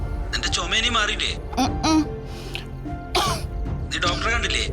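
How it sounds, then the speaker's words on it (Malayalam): A man coughs and clears his throat in a few harsh, close bursts, set among conversation in a comedy scene. "നിന്റെ ചുമേനി മാറിയില്ലേ?"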